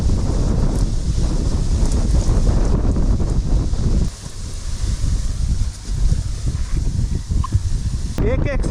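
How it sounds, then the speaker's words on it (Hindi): Strong wind roars and buffets the microphone on a monsoon mountain trek up stone steps, loud and continuous with brief lulls, while a person talks over it. "तेज हवा चल रहा है"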